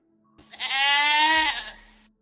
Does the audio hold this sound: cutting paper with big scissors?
no